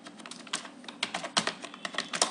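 Rapid typing of C program code on a computer keyboard, a close, busy patter of uneven keystrokes with a few louder clacks and no voices.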